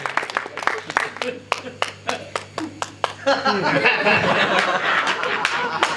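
Applause for the host at a Hindi poetry gathering, starting as a run of distinct claps that swell into dense clapping from the audience, with voices and murmuring underneath.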